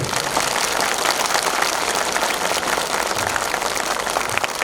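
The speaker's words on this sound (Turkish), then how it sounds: "bir alkış istiyorum sizlerden" Steady, loud crowd applause at a Turkish civic ceremony for a new district mayor of Tavas, dense clapping filling the whole stretch without pause.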